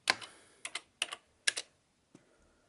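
Keystrokes on an early Sam Coupé computer keyboard, a quick run of about eight or nine sharp clicks in small clusters, close and clear with no talking.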